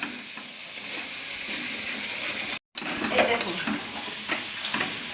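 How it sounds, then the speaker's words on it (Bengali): Chicken kosha masala with freshly ground garlic sautéing in a pan: loud, close sizzling and frying with stirring scrapes, broken by a brief silent gap before the crackle resumes. "এই দেখুন রসুনটা দিয়ে দেওয়া হলো এবার মশলার সাথে খুব ভালো করে কষানো হবে"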